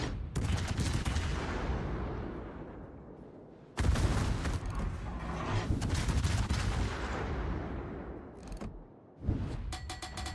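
Napoli cruiser broadside salvos in World of Warships: three loud, booming volleys of naval gunfire, each a sharp blast that rolls into a long fading rumble, with the last burst cut short.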